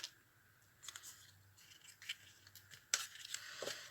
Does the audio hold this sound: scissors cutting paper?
yes